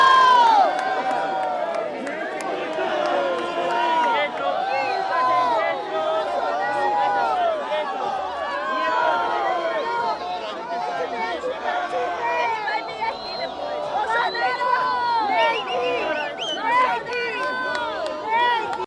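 A large crowd of Bolsonaro supporters in Padua, mostly Brazilians with some Italians and many children, cheers and shouts continuously. Dense overlapping voices, whistles and chatter stay loud and close throughout.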